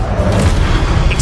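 A single deep, loud boom from an explosive fire spell striking in a wizarding school action game, a short rumbling blast with a faint voice under it.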